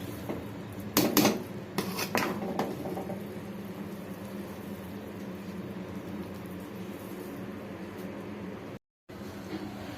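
Chicken biryani with ghee stirred in a pot gives a few close metallic scrapes and clinks in the first few seconds, then settles into a steady quiet room hum.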